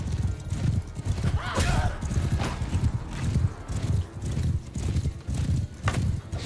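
Horse hooves gallop in the Mount and Blade Bannerlord video game, a steady, close clip-clop drumming that runs throughout with a whinny mixed in, while people talk over it.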